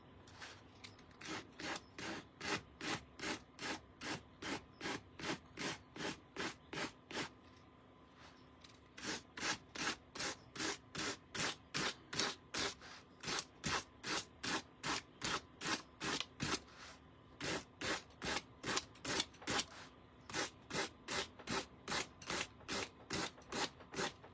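A wooden bunny cutout being hand-sanded with steady rhythmic back-and-forth strokes, close and fairly loud, with a short pause partway through and no talking.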